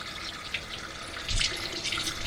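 Coolant flush water pours from a Rover V8 cooling system, a steady close splashing flow with a brief louder gush partway through, no talking.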